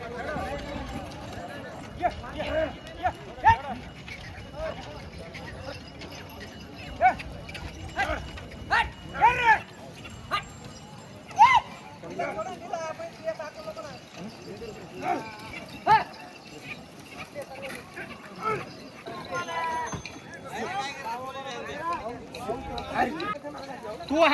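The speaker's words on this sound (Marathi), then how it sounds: "बघा कसे चाललेले मित्रांनो बैल." A newly bought pair of bulls, one dark purple and one reddish, walks at the Gangakhed cattle market. Scattered hoof clops sound amid constant crowd voices and chatter nearby.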